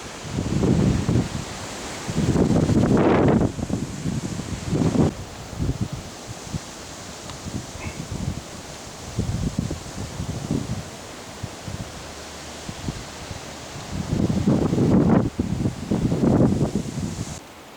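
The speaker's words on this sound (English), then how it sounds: "Kind of breezy." Gusty wind buffets the microphone on a lakeside stretch of the Superior Hiking Trail in Minnesota, coming in strong bursts with quieter rustling between them and no talk.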